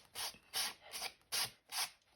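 A file rasps across the edge of a paper strip in a scrapbooking craft project, five short brisk strokes in a quick uneven rhythm, close and fairly soft, with no talking.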